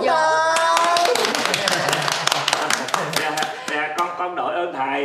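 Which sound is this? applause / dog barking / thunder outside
applause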